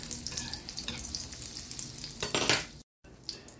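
Butter melting and sizzling in a pan on a stove at medium-low heat, a steady close crackling fry with a brief burst of louder spitting, a short gap, then quieter sizzle, no voices.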